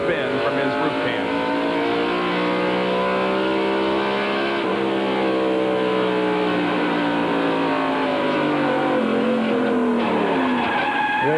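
NASCAR stock car spinning out on a racing oval, a long loud tire skid and screech blended with engine roar from the field, continuous throughout under a broadcast commentator's voice.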